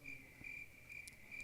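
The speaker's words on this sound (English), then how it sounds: "you don't want literal crickets in the room for sure" A crickets-chirping sound effect plays on its own: a quiet, steady high trill pulsing in short repeated bursts, with no one speaking over it.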